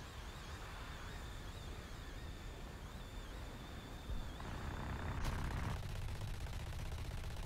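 Aircraft guns fire in the video game War Thunder, rapid bursts of gunfire over a constant engine drone, getting louder toward the end, heard from the cockpit.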